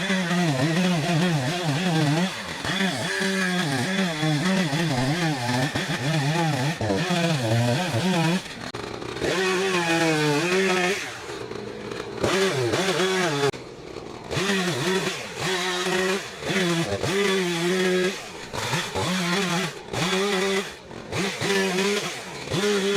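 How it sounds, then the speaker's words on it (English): A nearby Echo Timberwolf chainsaw runs continuously, loud and buzzing, its pitch rising and falling repeatedly as it revs and bogs through cuts, with a few brief drops in throttle. "we are working with the Timberwolf Echo chainsaw today"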